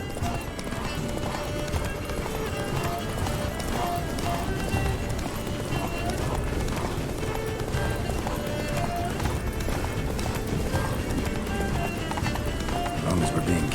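Horse galloping in the video game Witcher 3, loud rapid hoofbeats drumming steadily throughout over busy game sound, with a brief whinny.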